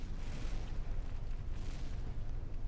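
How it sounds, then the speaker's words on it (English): 160mm frag shells strike a wooden sailing ship in a naval video game, making a continuous, dense, roaring crackle of impacts with no pauses. "160mm frag shells impacting a wooden sailing ship."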